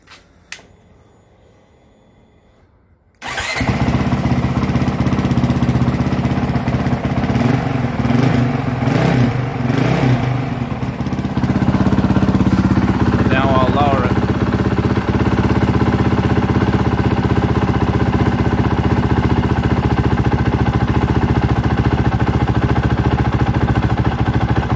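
A Honda CRF450L motorcycle fitted with an offroad flywheel weight starts after a quiet moment, then settles into a steady, loud, close low idle with a slow chugging rhythm that carries on alone to the end.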